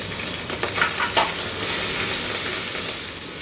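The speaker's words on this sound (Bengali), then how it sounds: "এই যে মুরগির রানটা আমি এইভাবে সেট করে রাখছি টুকরা টুকরা করে, ওটা দিয়ে এর সাথে হালকা একটু ভেজে নিব অল্প একটু।" Chicken drumstick pieces fry with ground black pepper in a pan, a loud, steady hissing sizzle with a few stirring scrapes early on that then settles into continuous frying.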